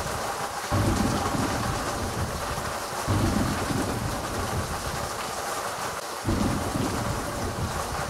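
A thunderstorm pours steady heavy rain while deep rolls of thunder swell and fade again and again, loud and close, with no voices.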